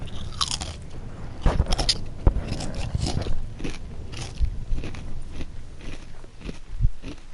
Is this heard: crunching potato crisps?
yes